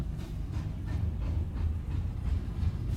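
A westbound freight train rolls past on the tracks with a steady, heavy low rumble and rhythmic clatter of wagons, continuous and fairly close throughout, with no voices.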